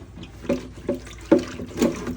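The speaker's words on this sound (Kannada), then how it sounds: "ಇವಾಗ ಲೆಮನ್ ವಾಶ್ ಮಾಡ್ತಾ ಇದ್ದಾರೆ." Water splashing and sloshing inside a water purifier storage tank being washed with lemon wash, coming in four distinct bursts about half a second apart, close and moderately loud.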